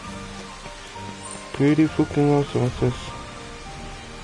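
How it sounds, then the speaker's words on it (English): Rain patters softly and steadily as a constant background hiss in Final Fantasy XV Platinum Demo, while someone talks excitedly over it. "Raindrops."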